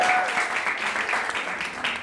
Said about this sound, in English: Very big hand clap for that.